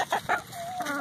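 A white Leghorn hen clucks in short bursts up close, followed by a sustained, wavering tonal call, loud and clear with no talking.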